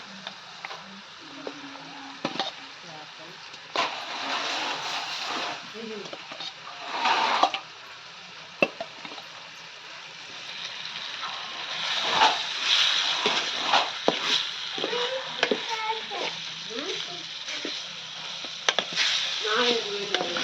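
Fish pieces sizzle steadily in hot oil in a pan as they are turned and stirred, a continuous close frying hiss with occasional scraping, while people talk over it.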